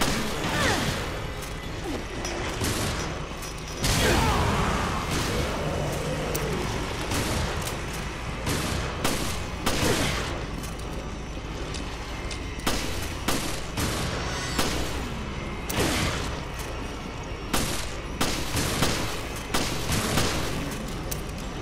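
Handgun fire in Resident Evil: Revelations: repeated sharp shots crack out one after another across the whole stretch, loud and close, mixed with heavier impacts and dense game action.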